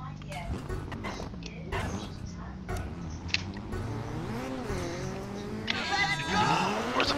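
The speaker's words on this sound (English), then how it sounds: "The Mitsubishi Lancer Evo." Mitsubishi Lancer Evo rally car in the Dirt 3 racing game, a continuous engine drone with rising and falling revs and gear changes, dense gameplay noise and brief clatter, no speech.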